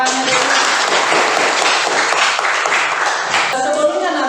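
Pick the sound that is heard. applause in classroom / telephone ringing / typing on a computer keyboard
applause in classroom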